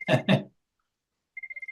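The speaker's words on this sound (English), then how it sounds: "Sorry, my phone is ringing here" Office phone ringing: a short burst of rapid, evenly pulsed electronic rings after two brief vocal sounds, fairly loud and close.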